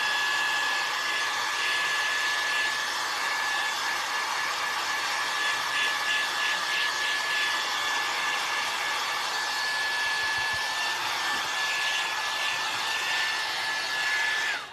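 A hair dryer blows steadily and loudly for about fifteen seconds, drying paint on a wooden Christmas tag cutout, a constant whooshing roar with a faint whine that cuts off at the end.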